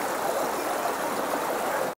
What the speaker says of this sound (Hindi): यहाँ पे पानी का बहाव तो देखिए।